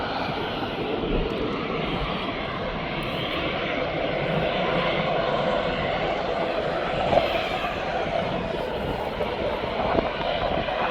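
A Boeing 737-800 jet taking off from East Midlands Airport, heard as a steady, broad engine roar with a continuous rumble, holding at an even level for the whole stretch without fading away.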